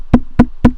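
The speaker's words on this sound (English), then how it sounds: "it's the sound of me like tapping my finger against the microphone" Three evenly spaced, close, dull thumps of a finger tapping on a Blue Snowball microphone, loud and isolated with nothing else audible.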